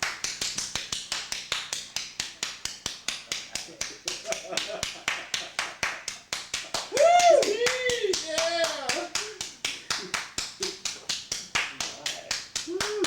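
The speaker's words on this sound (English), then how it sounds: "applause into, wait, into standing ovation" Steady rhythmic clapping by a small group, fast even claps repeating close to the microphone for the whole stretch, with a voice and a few other voices talking briefly over it partway through.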